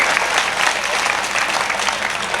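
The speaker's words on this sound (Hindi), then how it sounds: "खुल के तालियां बजाओ यार" Audience applause at a Hindi comedic poetry gathering (kavi sammelan), steady dense clapping from a crowd filling the whole moment without a pause.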